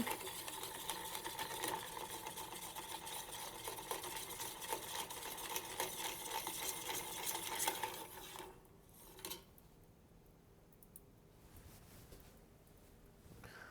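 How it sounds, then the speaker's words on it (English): A Jim Beam Black Label cocktail stirred with ice for a Holm Oak recipe, a steady, continuous rattle and clink of ice and spoon against glass for about eight seconds, then stopping into quiet room tone. "Now we just need to add some ice. Give that a stir."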